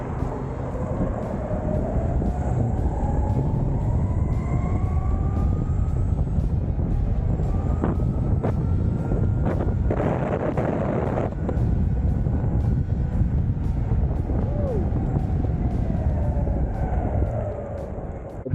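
An MBoards Endurance electric skateboard climbs a steep hill at speed, its motors whining in a steady high pitch that shifts as it labours upward, with heavy wind rush and rolling wheel roar throughout, and a few sharp knocks.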